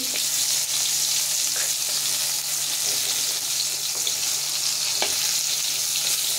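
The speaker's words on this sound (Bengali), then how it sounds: "আমি সব ভাজাই করব। মাছ ভাজা, বেগুন ভাজা" Fish and eggplant frying in hot oil in a pan give a steady, loud, dense sizzle that continues without a break, with faint clicks and no voices.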